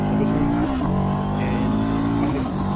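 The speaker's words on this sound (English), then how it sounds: "it likes to be revved to really make the most of its engine" A CFMOTO 700 CL-X Heritage motorcycle engine revs up and down in steady, rising pitched sweeps, close and loud, with a brief shift midway.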